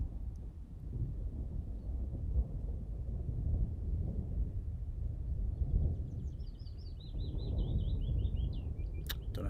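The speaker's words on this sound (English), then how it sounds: "that's thunder" Thunder rolls over woodland as a continuous, deep, low rumble mixed with wind noise, and a few high bird chirps come in near the end.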